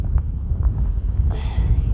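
Low, rumbling wind buffets the microphone throughout on a mountain top along the Kungsleden trail, with a brief airy hiss rising near the end.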